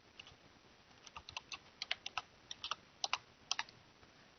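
Quick bursts of keystrokes on a computer keyboard, close and fairly quiet, tapping in short irregular clusters with brief pauses between them over a faint background hum.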